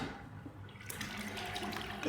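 Water draining from a sink during a shaving brush test, a faint continuous gurgling rush that grows slightly louder and splashier partway through.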